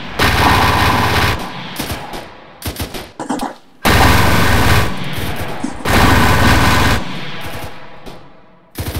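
Helicopter minigun fire in ARMA 3: loud, long sustained buzzing bursts, separated by short gaps and quieter scattered shots.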